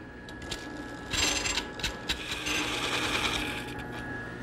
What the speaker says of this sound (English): I'm going to turn it down to the correct radius